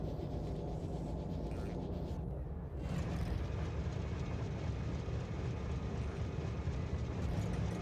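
A train rolls along the tracks in Factorio, a steady loud rumbling drone that runs continuously and shifts slightly in tone partway through, with no talk over it.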